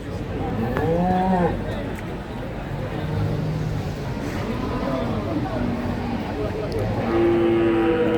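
Cattle at a livestock market lowing and mooing, several rising calls over a dense crowd murmur and background chatter, with people talking throughout.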